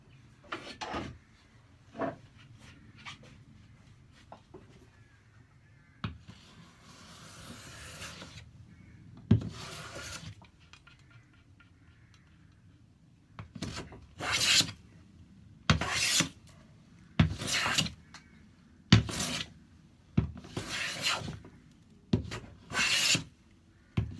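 A hand plane smooths wood for a workbench plane stop with a run of loud, close rasping strokes, sparse at first and then coming in quick regular passes, with no voices.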